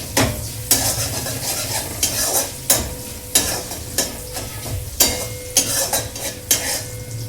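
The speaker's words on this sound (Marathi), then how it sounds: "जरासं फ्राय होऊन द्या, त्याचा अरोमा सगळा त्याच्यात जाऊ द्या, तुपात वगैरे प्रॉपर मिक्स होतात" Garlic fries in hot ghee while a utensil stirs it, giving rhythmic, close scraping strokes roughly every half second over a constant crackling sizzle.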